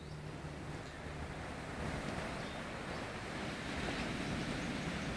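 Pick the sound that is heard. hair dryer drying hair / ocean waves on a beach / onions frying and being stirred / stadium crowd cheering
ocean waves on a beach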